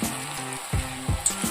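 Spoonfuls of onion pakodi batter drop into hot oil and fry, a loud, close, steady sizzle that swells with fresh bursts each time another bit of batter goes in.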